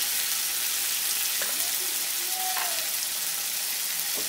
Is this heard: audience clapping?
no